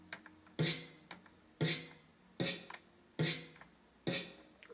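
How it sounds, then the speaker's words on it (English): Five crisp, bright snare drum sample hits at an even tempo, each with a short rattling tail, with quiet ticking in between. "My snare sounds like this."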